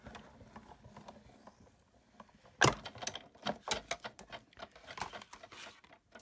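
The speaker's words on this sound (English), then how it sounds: "all we have to do now is run it through the Big Shot machine" A Big Shot machine cranks an embossing folder through, giving a loud clunk followed by a run of ratcheting mechanical clicks and rattles, close and without talk.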